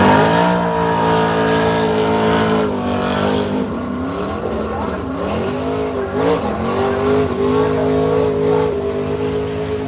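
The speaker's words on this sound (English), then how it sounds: "Here comes the last penny of Jeremy Bonnet and the 55 Chevy." A 1955 Chevy gasser drag car launches down the strip at Brainerd drag way, its engine roaring loud and close and climbing through sweeping gear changes in a sustained, rising wail.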